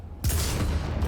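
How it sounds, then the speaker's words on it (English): A flashbang grenade detonates in Cyberpunk 2077 with a sudden loud burst that fills the whole range, then a sustained roaring wash and low rumble that carry on to the end. "Meet the other part of my frankly broken arsenal."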